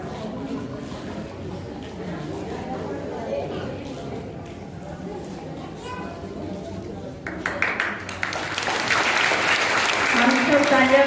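Audience applause at a Mahashivratri event breaks out partway through, a loud, dense wash of clapping that swells and holds to the end, following a stretch of quieter background talk.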